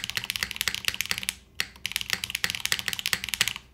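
Fast typing on a mechanical keyboard fitted with Curry switches and GMK keycaps, a dense run of crisp, close clacks with a brief pause midway before the rapid keystrokes resume.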